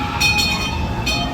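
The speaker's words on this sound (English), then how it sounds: "there goes the train" A theme park train rolls past on its track at Knott's, the loud rumble of the wheels on the rails broken by several sharp metallic clinks and squeals.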